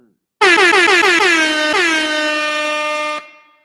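A loud air horn blasts in a rapid run of short stuttering honks, then holds one long sustained blare before cutting off abruptly.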